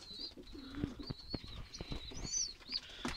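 Pigeons in a loft where adults are feeding their young, with soft cooing and chirping, brief wing flaps and small rustling movements close by, fairly faint overall.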